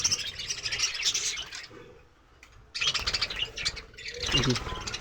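Small caged birds chirping and tweeting in rapid bursts close by, with a brief lull in the middle before the busy chatter resumes, no talking.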